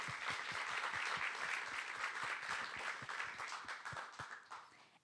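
An audience at a startup competition event applauds sponsors, many hands clapping in a dense, sustained burst that holds steady for several seconds, then begins to thin and fade at the end.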